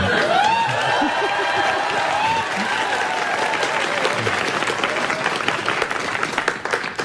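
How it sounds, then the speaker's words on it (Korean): A studio audience at a Korean political talk show claps steadily throughout, a sustained mass of clapping with some voices and murmurs mixed in underneath. "박수도 제대로 못 치면서 뭘 잘했다고."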